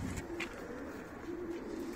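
Domestic pigeon, a prize-winning show bird, cooing softly in low repeated murmurs against a quiet background hum, faint and close.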